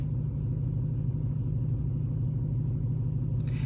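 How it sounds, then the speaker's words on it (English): A parked car's engine runs at a steady idle, a continuous close low hum, broken near the end by a brief sharp click. "let me turn the car off"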